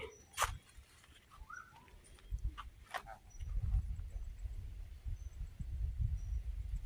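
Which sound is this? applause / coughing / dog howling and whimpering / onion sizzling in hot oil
dog howling and whimpering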